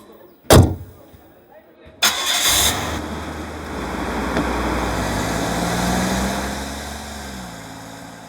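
A car door thuds shut. Then a car engine cranks and catches in a Hindi dubbed horror film scene, settling into a steady mid-pitched idle that runs on for several seconds.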